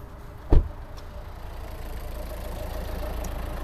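A 2021 Hyundai Tucson with a 1.6 CRDi mild hybrid diesel engine idles steadily at close range, a low even tick-over after a single sharp knock near the start.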